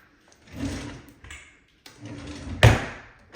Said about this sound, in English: Doors.